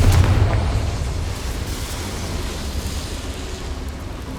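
A deep, rumbling Confringo spell blast from the game Hogwarts Legacy booms at the start and rolls away into a long fading roar, loud and alone.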